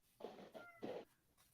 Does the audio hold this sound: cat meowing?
yes